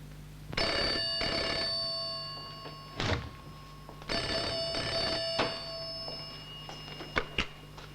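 An old telephone bell rings in two long bursts indoors, separated by a thump, followed by handling clunks and knocks.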